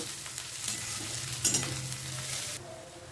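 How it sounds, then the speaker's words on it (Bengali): Garlic and onion fry in a pan, a soft, steady sizzle with light stirring scrapes and a brief clatter midway, heard close and quiet with no talking. "রসুন দিয়ে আমি আবারও পেঁয়াজের সঙ্গে ভালোভাবে একটু ভেজে নেব।"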